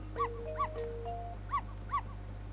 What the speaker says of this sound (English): Of course, it makes the dog bark too.